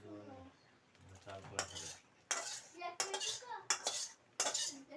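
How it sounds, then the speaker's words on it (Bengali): A spoon stirs spices into khichuri with khesari lentils and fried vegetables in a pot, making several bursts of scraping and clattering against the metal, with short pauses between strokes. "সেইটাতে আমি এবার মশলাটা মিশিয়ে দেবো দেখো আমি মশলাটা দিয়ে দিচ্ছি খেসুরির সাথে"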